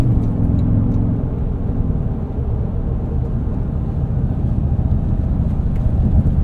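A 2024 Toyota Tundra TRD Pro i-FORCE MAX pickup driving at speed, with a loud, constant low road and engine rumble filling the cabin and no talk.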